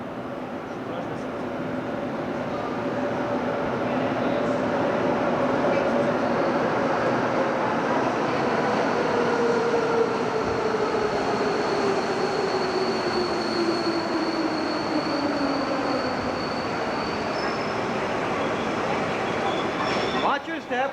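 A subway train rumbles steadily as it slows into the Peel stop in 1987, with rising and falling wheel squeals and a constant heavy roar heard from on board, plus faint voices in the car.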